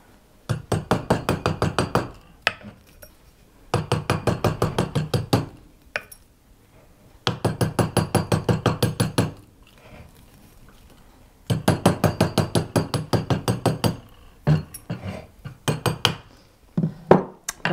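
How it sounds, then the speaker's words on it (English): Bursts of rapid metallic hammer taps texturing a silver bangle over its solder seam, several runs of quick strikes separated by short pauses, close and fairly loud. "I'm going to get my hammer that I used before and just add a bit more texture over my solder seam"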